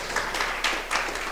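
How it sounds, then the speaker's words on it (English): Applause at an executive dialogue event, a short stretch of crowd clapping in loose overlapping bursts, moderately loud and without voices. "he deserves a round of applause for that"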